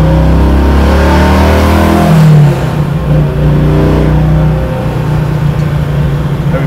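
Stroked LS3 V8 in a pro-touring Camaro SS, heard from inside the car: a loud, steady low engine drone that climbs into a rev around the two-second mark, then settles back to a rumbling idle, with no talking.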